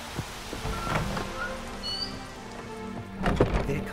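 Rain falls in the video game Witcher 3, a steady patter of drops on surfaces with a few scattered nearby knocks, at a moderate, even level with no talking.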